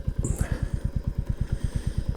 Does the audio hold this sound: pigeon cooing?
no